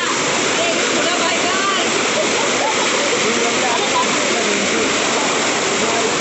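Waterfall at Mumbra pouring in a loud, steady, continuous rush of water that fills the whole scene, close by and unbroken.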